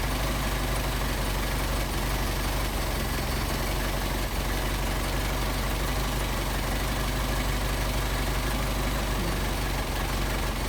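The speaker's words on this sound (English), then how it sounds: "See the idle picking up, now it's starting to drop off" A Mercedes 190SL engine idles steadily with Solex 44PHH carburetors under adjustment, a continuous low rumble with broadband mechanical hiss, the idle speed rising slightly and then easing off, loud and close with no talking.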